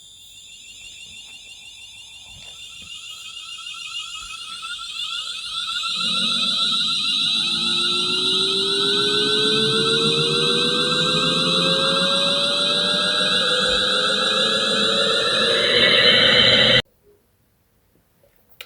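In a Roblox British railway game, a train's high electric motor whine climbs steadily in pitch as it speeds away from a station, growing louder over a constant hum, then cuts off abruptly.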